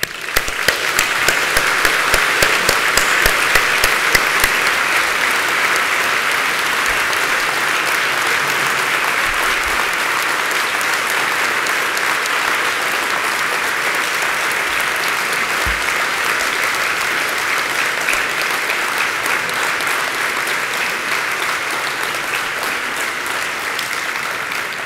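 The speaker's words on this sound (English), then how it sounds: "I ask you to applaud." Large audience at the opening ceremony of the HR19 harm reduction conference applauds in a sustained, even roar of clapping that holds for about twenty-five seconds, loud and dense with no speech over it.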